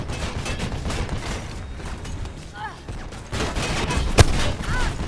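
Gunfire in the first-person game Mirror's Edge, a steady spray of machine-gun shots and impacts that thickens partway through, with one sharp louder crack near the end, heavy and continuous with voices underneath.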